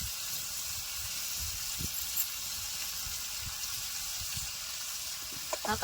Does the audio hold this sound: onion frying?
yes